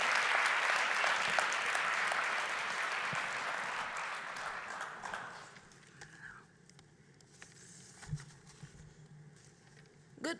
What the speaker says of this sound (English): Please, a round of applause for our youth voices.